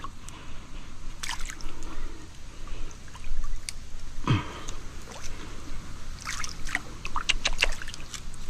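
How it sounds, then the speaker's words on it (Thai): A stream flowing, with steady close-up water noise, trickles and splashing drips throughout, fairly loud and continuous. "น้ำไหลพี่น้อง"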